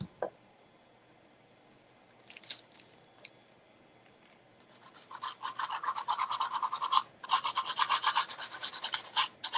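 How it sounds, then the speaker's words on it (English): Short scratchy bursts give way to steady, continuous rasping strokes of sandpaper rubbing a surface, close and fairly loud, with brief pauses between passes. "a little sanding block or a little piece of sanding paper."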